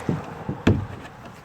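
A kayak paddle dips into the water off Hilton Head Island, making three short, soft splashes in close succession. The third stroke is the strongest, and each one is followed by a faint trickling wash.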